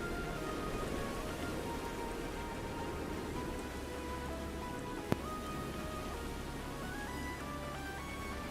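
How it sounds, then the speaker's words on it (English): Rain patters steadily in a Minecraft world, a soft, even hiss of falling drops with a single sharp click partway through and no talking. "now it's raining"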